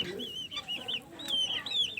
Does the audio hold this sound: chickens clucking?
yes